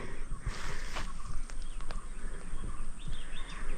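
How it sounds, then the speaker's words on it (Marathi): Faint birds chirping and calling in a quiet, remote countryside setting away from a village, scattered short tweets over a soft steady background hush. "आणि त्या पक्ष्यांचा किलबिलाट"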